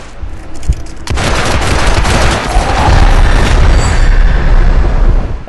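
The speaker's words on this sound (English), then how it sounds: "They're shooting me!" Gunfire in the Hitman Absolution video game: a dense, loud barrage of shots and booming impacts erupts after a brief quieter start and keeps roaring continuously to the end.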